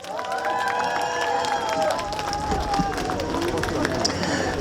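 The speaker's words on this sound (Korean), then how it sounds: "물 마실 때 이럴 때 박수 한번 크게 주십시오" Applause and cheering from an outdoor festival crowd at a Samcheok village festival concert, steady and fairly loud throughout, with tonal music or voices ringing over the broadband clatter.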